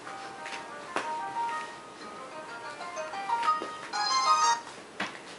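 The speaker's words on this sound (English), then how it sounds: "That's my phone." A mobile phone's ringtone plays a short melodic pattern of bright tones that repeats and swells, at moderate loudness over a quiet indoor background.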